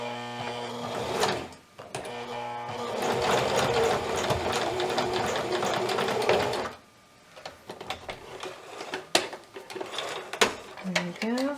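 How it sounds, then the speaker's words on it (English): A sewing machine stitches and back-stitches a seam on a ruffled petti-romper, a loud, fast mechanical whir lasting several seconds, then stopping and giving way to scattered clicks and handling noises. "I'll just run it under the sewing machine"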